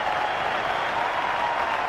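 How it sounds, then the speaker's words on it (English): A cricket crowd at the Gabba in Brisbane gives a steady, distant applause for a century in a Sheffield Shield final, an even wash of clapping with no voices over it. "Standing ovation from the crowd here at the Gabba."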